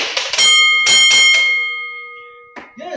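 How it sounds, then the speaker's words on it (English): A bell is struck several times in quick succession, each strike ringing out with a bright metallic tone. The last ring decays slowly into silence before a brief sound at the very end. "Yes, I have my actual bell."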